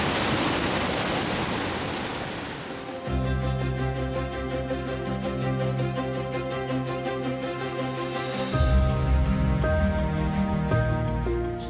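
Water flows steadily at the source of the Krupajska river in Serbia, a loud continuous rushing that carries on unbroken throughout.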